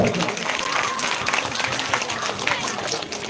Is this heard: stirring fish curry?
no